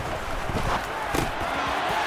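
A home crowd roars through a steady, dense wall of noise at a Detroit Lions American football game against Green Bay in a stadium. The cheering swells briefly with scattered shouts.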